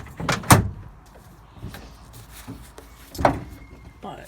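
Door of a 1970s Class C motorhome opened and shut, giving a sharp latch clunk near the start, a couple of softer knocks, and another solid thump later, close and fairly loud with no talking.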